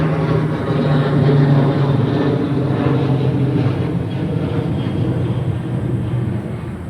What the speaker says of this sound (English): I just wanted the plane to go over